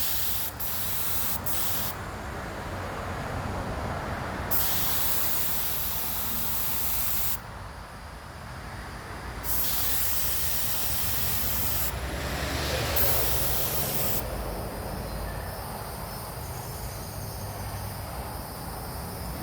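A compressor-driven spray gun paints a jon boat, giving loud hissing bursts of spray separated by short pauses, close to the microphone, with no talk.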